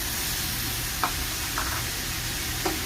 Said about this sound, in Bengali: এবার আমি এতে দিয়ে দেব কুচিয়ে রাখা টমেটো